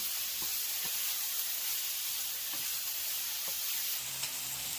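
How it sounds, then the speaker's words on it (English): Onions and mushrooms sautéing in a pan, a close, steady bright sizzle punctuated by several soft scraping stirs, with no talking. "you have to stir it, make sure it doesn't stick to the bottom. Saute it really well."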